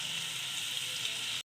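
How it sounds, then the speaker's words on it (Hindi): Onions frying in oil in a wok for chicken karela, a steady close hiss and sizzle with no talk that cuts off abruptly near the end. "और अब मैं प्याज इसमें कढ़ाई में डालने लगी हूँ।"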